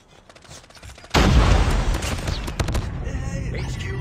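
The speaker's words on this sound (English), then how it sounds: "Grenade out!" A grenade explosion bursts loud and close in a Call of Duty Mobile Nuketown match, followed by a continuing spray of gunfire and scattered shots that stay dense and near until the end.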